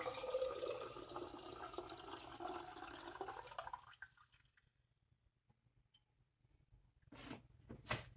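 Liquid pours steadily into a pot for making turkey stock, with a soft splashing rush, then stops, followed by quiet and a couple of brief knocks.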